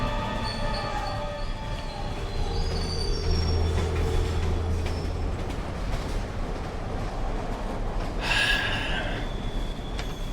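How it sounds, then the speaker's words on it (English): Train from the video game Bendy and the Dark Revival rumbling steadily with clattering wagons and a brief high wheel squeal near the end, loud and continuous with no talking. "Stepping off the train"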